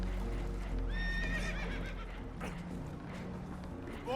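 Spooked horses in Red Dead Redemption 2 whinny and neigh on a damaged boat taking on water: a shrill, wavering neigh rises early, with a second cry at the end over a low rumbling background and faint hoof knocks.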